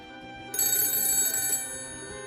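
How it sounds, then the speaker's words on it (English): A cell phone lying on a table rings loudly with a bright electronic ringtone. It starts abruptly, lasts about a second, then fades under a steady background hum. "my cell phone, sitting on the table, started ringing"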